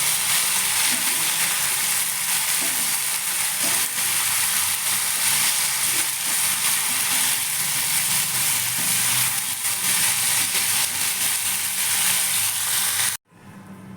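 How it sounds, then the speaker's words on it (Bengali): Young green jackfruit frying in a pan of oil for a vegetarian curry, a steady loud sizzle running evenly throughout before cutting off abruptly near the end. "ইচারটা ভালো করে ভেজে নেব"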